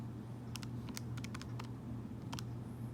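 Rapid keystrokes tap on calculator keys, quick irregular clusters of sharp clicks over a low steady hum, close and fairly quiet, with no talking.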